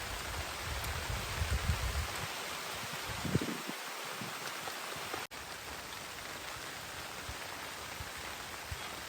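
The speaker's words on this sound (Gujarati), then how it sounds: "જો વરસાદ પણ બહુ વધારે આવવા માંડ્યો છે" Heavy rain pours down in a dense, constant hiss, drumming steadily on surfaces close by, with a brief thump partway through.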